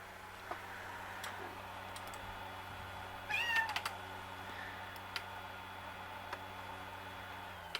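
A cat meows once, short and fairly close, amid a quiet indoor room with a low steady hum and scattered soft clicks and taps.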